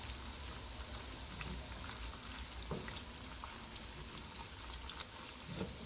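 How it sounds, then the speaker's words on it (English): A dense, steady sizzle of pork fat rendering into lard on the stove, crackling with small pops throughout, close by and with no voices. "Hear that sizzle?"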